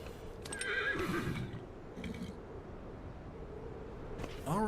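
Horse neighing in the video game Dragon Age Inquisition, a loud whinny bursting out early and another near the end, with clip-clopping hooves and game ambience between.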